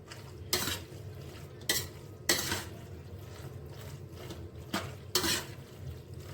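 A spoon stirs macaroni with minced meat in a cooking pan, making several sharp scraping clinks spaced a second or so apart over a soft background sizzle.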